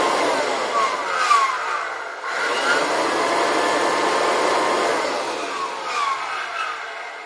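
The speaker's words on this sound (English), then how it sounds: "this is a short video of what a really sick and hurt vacuum cleaner sounds like" A worn Kirby Classic vacuum cleaner with bad bearings runs continuously with a harsh whine and a wavering, grinding drone that rises and dips, loud and close, with no talk.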